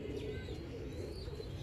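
A slate-grey Kamagar pigeon in Multan gives low, soft cooing against a dense, noisy background, close but subdued throughout the short stretch.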